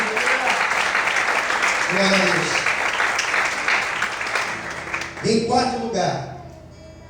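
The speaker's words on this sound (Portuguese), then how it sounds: "Quantos podem aplaudir e exaltar ao Senhor nessa manhã?" A church congregation applauds in a steady wash of clapping during a morning worship service, then a voice speaks briefly over the tail as the clapping fades.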